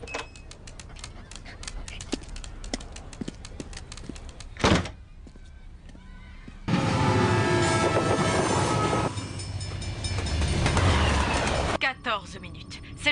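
Train noise in an animated cartoon as two trains head toward a collision: rolling rumble and clanking, a loud burst midway, then a sustained roar of rail cars passing, with voices mixed in.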